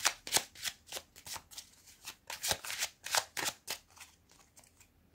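A deck of Lenormand cards shuffled and cut by hand, a quick series of crisp riffling and slapping bursts in an uneven rhythm, close and fairly quiet, with no talk.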